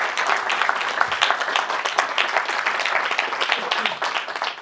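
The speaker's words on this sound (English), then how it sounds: "I think this deserves another round of applause." Audience at a Latin America Day event applauds steadily, a dense, continuous round of clapping that holds at an even loudness for the whole stretch.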